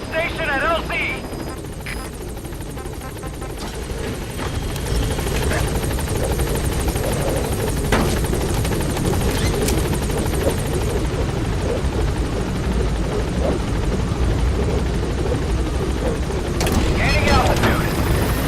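A support helicopter in Metal Gear Solid V arrives and hovers at a landing zone, its steady rotor drone filling the scene at high level. Brief radio-style voice lines sound over the noise.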